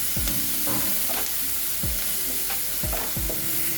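Frying sizzle from a pan with salt and turmeric powder, as for a Hesar kal (field bean) dish. A steady hiss runs throughout, broken by several sharp spoon scrapes and clinks as the mixture is stirred.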